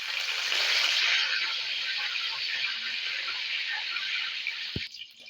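Curry leaves frying in hot oil for poha chivda, a loud, steady close sizzle and hiss that cuts off abruptly near the end.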